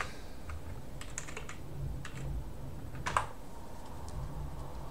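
Light keystrokes on a computer keyboard come in a few short bursts with brief pauses, faint against a steady hum of room noise.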